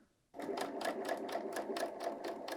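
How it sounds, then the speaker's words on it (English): A BERNINA L 890 sewing machine stitches across woven fabric for a top, starting abruptly into a fast, even run of rhythmic needle pulses that stays close and steady. "we're just going to sew across"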